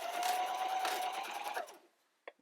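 A home sewing machine stitches cloth for a wet wipe pod, humming in a steady, fast run for nearly two seconds before stopping, followed by a brief mechanical click up close.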